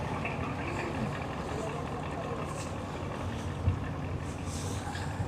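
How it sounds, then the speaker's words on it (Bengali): A stone-laden bulkhead cargo vessel moves along a river, heard from aboard a launch as a steady low engine drone and rumbling water wash, with faint voices in the background. "এটা হচ্ছে পাথর বোঝাই একটা বাল্কহেড, খুব পানির একদম মনে হচ্ছে নিচ দিয়ে চলে যাচ্ছে"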